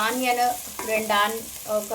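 Vegetables fry in oil in a pan for a vegetable curry served with bagara rice, a steady close sizzle running under a person's voice as they talk throughout.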